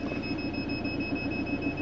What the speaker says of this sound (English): That beeping behind just to say that we're still hooked up.